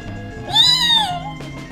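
A person's voice imitates a kitten, giving one drawn-out, rising-and-falling meow that stands out clearly in the middle, with soft background noise on either side and a brief breathy sound near the end.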